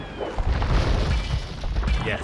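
Cannon galleons firing in the Age of Empires video game, booming blasts and rumble packed into a couple of seconds, loud, with a commentator's voice running underneath.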